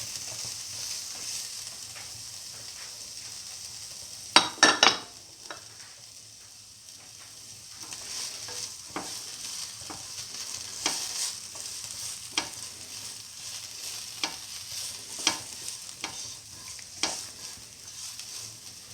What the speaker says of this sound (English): soya chunks, salt and mix thoroughly.